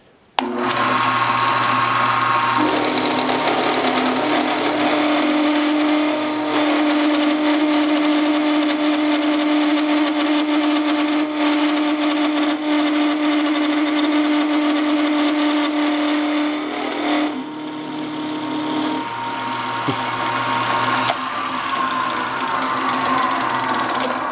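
A milling machine takes a 50 thou cut into a steel shaft for a keyway, a loud, steady motor and cutter drone that holds for about twenty seconds before dipping briefly near the end, with no voices.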